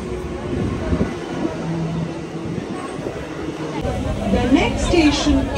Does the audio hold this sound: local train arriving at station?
yes